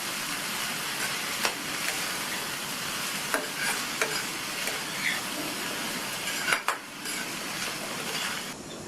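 A spoon stirs a snake gourd stir-fry with cumin, coconut and chopped coriander leaves in a pan. A soft, steady scraping runs under a light sizzle, with a few sharper taps against the pan.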